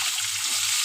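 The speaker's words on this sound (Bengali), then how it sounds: "আলু আর টমেটোটা দিয়ে দেবো, দিয়ে আমি ভালো করে একটু ভেজে নেব।" Potatoes and tomatoes frying in hot oil for khichuri, a dense steady crackling sizzle close by with a low hum underneath and no talking.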